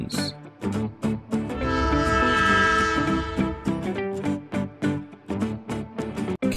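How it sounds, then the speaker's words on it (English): A train sounds its horn as it passes, with sustained harmonic blasts over rumbling rail noise, loud and close, with short pauses between horn calls. "Two trains."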